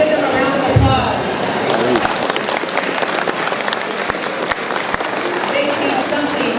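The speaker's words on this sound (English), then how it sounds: "Let's give them a round of applause." Audience at an annual awards and anniversaries soiree applauds steadily for several seconds, a dense wash of clapping with crowd murmur and some talk mixed in.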